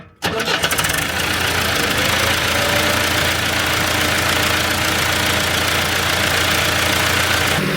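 An engine with a broken turbo and oil on the manifold cranks, catches and settles into a loud, steady, rough running drone, close by and with no talk.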